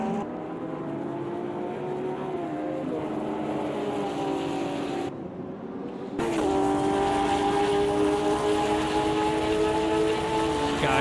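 Porsche 911 GT3 in a racing video game at Kyalami, its engine howling loud and steady with rising and falling pitch through gear changes, briefly cutting out before returning at full volume.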